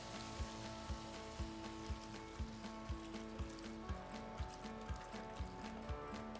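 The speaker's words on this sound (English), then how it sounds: "you want to hear that sizzle, let you know your pot's good and hot." Food sizzles steadily in a hot Dutch oven, a continuous crackling hiss with a regular thumping pulse underneath.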